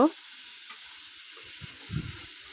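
Chopped pointed gourd fries in a pan with a faint, steady sizzle, broken by a couple of soft stirring scrapes near the end after a brief clink at the start.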